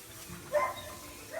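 Dogs at a kennel give a brief bark midway through, faint and slightly distant over a low murmur of background noise.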